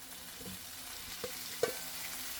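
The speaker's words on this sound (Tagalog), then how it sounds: "pwede na po natin ilagay yung minarinate nating baka." Marinated beef added to a pan of sautéed garlic and onion gives a low, steady frying hiss with a few soft scraping stirs and one sharp clink near the end; no voices.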